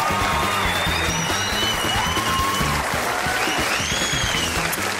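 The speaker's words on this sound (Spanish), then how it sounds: "¡El aplauso para ellos!" Studio audience at the Chilean TV variety show Sábados Felices applauds steadily and loudly, a dense continuous wash of clapping with some crowd noise, while faint whistling tones drift above it.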